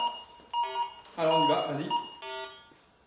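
Electronic buzzing tones from an entry-level Minelab metal detector signalling iron rise and fall in short bursts, with someone talking over them.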